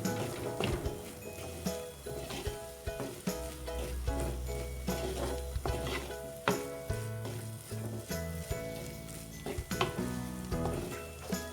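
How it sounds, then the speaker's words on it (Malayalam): A spice and masala mixture for Kerala-style sardine curry sautés in a pan, with a constant busy sizzle, scraping stirs and clinks of a utensil, plus a low rumbling hum throughout. "ഇതിൻ്റെ പച്ചമണം മാറാൻ വേണ്ടിയിട്ട് 2-3 മിനിറ്റ് ഒന്ന് വഴറ്റി കൊടുക്കാം"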